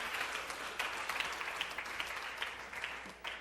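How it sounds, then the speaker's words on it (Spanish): A church congregation applauding the Lord, a steady wash of many hands clapping at moderate distance, fairly quiet and continuous from start to finish. "vamos a regalar un aplauso al Señor"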